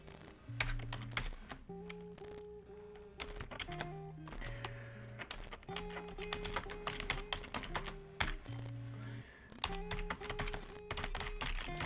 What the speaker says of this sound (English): I'm just having trouble typing for a second there